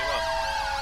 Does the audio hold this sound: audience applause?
no